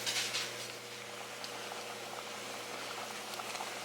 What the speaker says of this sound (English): Okay, this has come to a boil.